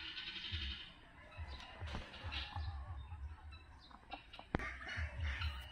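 Poultry calls from a separated brooding turkey, low clucks and gobble-like notes recurring near and moderately loud, with other birds chattering faintly in the background.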